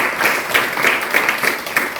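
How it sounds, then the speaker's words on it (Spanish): Church congregation applauding after a call to praise God during a Spanish-language service, a short burst of scattered, moderately loud clapping with no voices over it. "Démosle un aplauso al Señor, que en su sabiduría ha hecho estas cosas."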